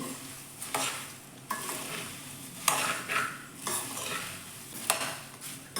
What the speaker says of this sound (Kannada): ಈಗ ಈ ಮಂಡಕ್ಕಿನ ಸೇರ್ಕೋತಾ ಇದ್ದೀನಿ ಇದನ್ನು ನಾನು ಚೆನ್ನಾಗಿ ಮಿಕ್ಸ್ ಮಾಡ್ಕೋತೀನಿ